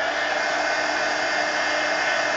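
A hair dryer blows steadily on an art journal page, giving a continuous, even whooshing hum with a faint tonal whine, close and uninterrupted, with no speech.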